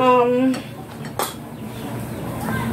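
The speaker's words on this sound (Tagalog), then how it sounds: "halu-haluin nyo ng maigi" Crispy pork liver batter being stirred in a bowl, a few clinks and scrapes of a utensil against the dish, with a brief voiced sound at the start and a sharper knock midway.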